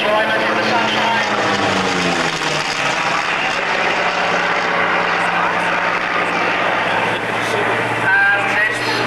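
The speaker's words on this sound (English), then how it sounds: "John Allison flying this aeroplane with great elan and enjoyment in the sunshine" Propeller aeroplane weighing nearly 2.5 tons flying overhead at the Weston Park air pageant on a sunny day, a steady engine drone with a falling pitch as it passes, under continuous commentary.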